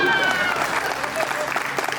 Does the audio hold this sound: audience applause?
yes